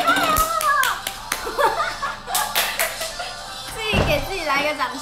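Sharp hand claps ring out during a livestream by an AKB48 Team TP member, scattered among lively chatter and laughter.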